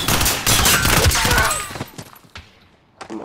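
Call of Duty: Modern Warfare gunfire, a loud dense burst of rapid shots for about a second and a half, then fading to a few scattered, sharper reports.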